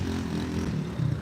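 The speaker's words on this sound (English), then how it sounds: "It's like the engine's not even powerful enough to get up that ramp." A struggling motor vehicle engine labours up a ramp, giving a steady, low droning strain that holds throughout the brief stretch and grows slightly rougher near the end.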